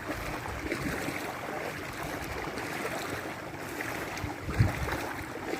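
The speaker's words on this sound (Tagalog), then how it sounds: "Lakas ng ano, lakas ng agos." Strong water current rushing across a sandbar on a beach, a steady broad wash of flowing water with wind noise, continuous and fairly close throughout.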